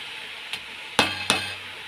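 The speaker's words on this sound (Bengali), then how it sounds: "এই যে আলু সব ধোয়া তো দিয়ে দিলাম" Washed potatoes are dropped into a pan of frying dal, bringing a low sizzle and two or three sharp clinks against the metal in quick succession.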